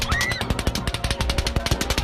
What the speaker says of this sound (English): over 100 rounds are fired into the crowd